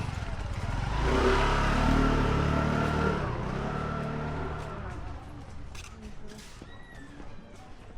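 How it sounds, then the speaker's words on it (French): A scooter engine rises and passes close by in a very narrow street in India, loudest early on and then fading, with street noise and people talking around it. "mais il passe en scooter"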